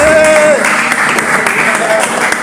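An audience at a gathering claps in a steady, continuous wash of applause that stays loud for the full few seconds, with a faint voice faintly audible underneath.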